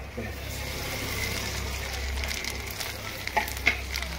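Asafoetida and cumin sizzling in hot oil in a pan for Odia-style dalma, a steady close frying hiss throughout with a few sharp crackles near the end.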